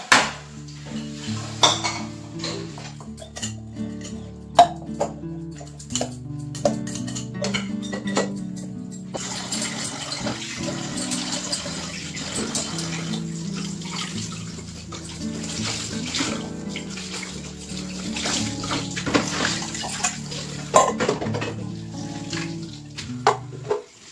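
Kitchen utensils being washed in a sink: running water from the tap alongside clinking metal pots, dishes and cutlery, with scattered sharp clanks over a steady wash of water throughout.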